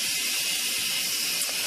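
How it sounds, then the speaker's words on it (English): Instant Pot pressure cooker venting steam after cooking a taco dump meal, a loud, steady, close hiss without any break, with no talk over it. "I am currently releasing all of the steam out of the Instapot"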